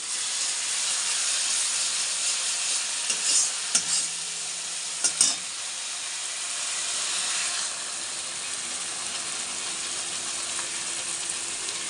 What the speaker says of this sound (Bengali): হলুদ জিরে ধনে বাটা সব দিয়ে এখন এটা কষাচ্ছি